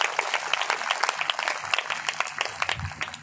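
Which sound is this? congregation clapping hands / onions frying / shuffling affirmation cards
congregation clapping hands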